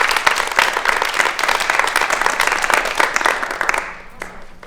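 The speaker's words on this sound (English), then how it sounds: "Let's just actually give a round of applause to everybody." Loud, dense audience applause after a live performance, a sustained wash of many hands clapping that fades away in the final second.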